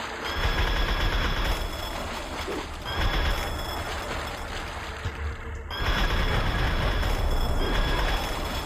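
A minigun firing in Turok: Dinosaur Hunter, long loud bursts of rapid mechanical fire broken by brief pauses, with the game's ambience underneath and no speech.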